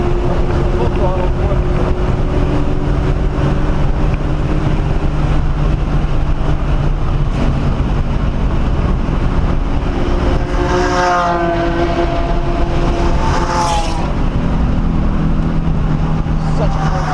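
A BMW at full throttle on the Mosport race track, its engine a loud continuous roar for the whole stretch, with rising and falling pitch from gear changes and speed shifts. Wind and road noise sit under it.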